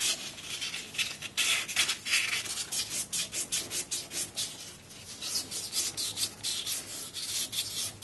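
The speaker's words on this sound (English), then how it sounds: "Just need to get some wet and dry fine sandpaper just to rub that down a little bit just so the bearing slides on nicely" Fine wet-and-dry sandpaper rubs down a metal front axle on a 1275 MG Midget, a rhythmic, close scratching of repeated back-and-forth strokes that continues without pause and with no voices.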